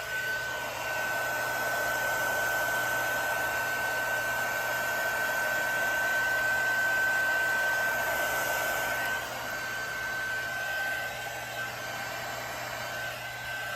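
A heat tool blowing steadily on alcohol ink coating a stainless sippy-cup tumbler, a constant close whoosh with a thin high whine that holds for the whole stretch and eases slightly near the end, without speech.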